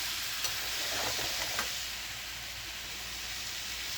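Vegetables for ratatouille, including zucchini, sizzle steadily in a hot pan while being stirred, with a couple of brief scraping stirs over the constant frying hiss.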